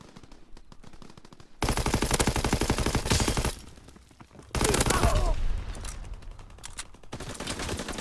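Assault rifle gunfire in Call of Duty WW2 comes in two loud sustained automatic bursts, each lasting a couple of seconds, with quieter game sounds around them.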